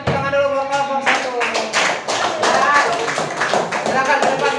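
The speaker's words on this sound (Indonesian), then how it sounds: "Ayo kasih tepuk tangan dulu buat kelompok 1." A middle-school classroom applauds a student group before its presentation, a busy patter of many hands under overlapping chatter, moderately loud and continuous.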